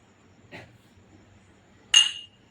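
Drinking glasses clink while homemade soda is served, two short sharp knocks about a second and a half apart, the second brighter and louder, against a quiet room.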